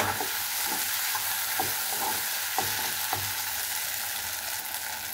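Tomatoes stir-fried in a pan into a tomato bhaji, a steady close sizzle with faint scraping stir strokes at intervals, no voices.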